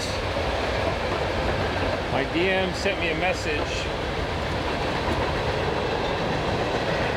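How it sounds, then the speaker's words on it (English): A loud, steady rumble of a passing train near a Utah terminal fills the clip, with a brief voice speaking under the continuous noise. "We got a train. It's really loud."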